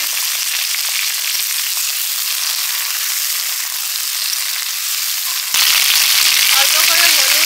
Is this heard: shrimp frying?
yes